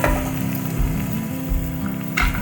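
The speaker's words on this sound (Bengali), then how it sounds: "দিয়ে একটু ভালো করে কষিয়ে নেব" Ginger paste, ground coriander, turmeric, salt and cumin paste fry together for a Malabar spinach and prawn curry, a steady close sizzle with occasional soft stirring bumps and a brief sharper scrape near the end.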